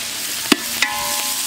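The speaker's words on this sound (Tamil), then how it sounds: "4 கொத்து கருவேப்பிலை, 1 கைப்பிடி நல்ல பெரிய கைப்பிடி அளவுக்கு புதினா, அதே அளவுக்கு மல்லி, எல்லாத்தையும் சேர்த்து வதக்கிடலாம்" Chicken sautés with curry leaves, mint and coriander in a large village kitchen pot, a steady sizzle broken by two sharp stirring clacks close by.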